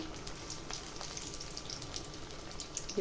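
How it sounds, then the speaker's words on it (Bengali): Banana flower pieces fry in a pan over a low-to-medium flame, giving a soft, steady sizzle and light crackle throughout. "একেও আমি এভাবে ভেজে নেব উল্টিয়ে দিয়েছি"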